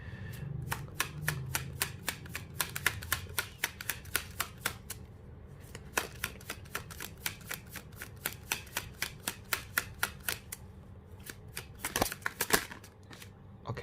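Tarot cards are shuffled by hand in quick, crisp flicks and riffles, a fairly even run of sharp snaps that continues close up and without pause, with a short louder flurry near the end.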